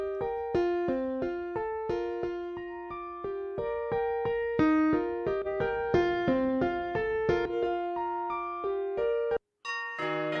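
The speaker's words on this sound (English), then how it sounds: "We've got this CP80, and you can clearly hear the difference." Yamaha CP80 electric piano modeled in Pianoteq 8 on iOS, a clear melodic passage of struck, bell-like notes with quick decays, played solo and close before a brief break and a new phrase.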